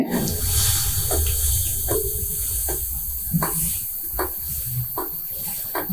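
Hands washed under a running tap produce a steady stream of water with irregular splashes and patters, near and moderately quiet, with no talking.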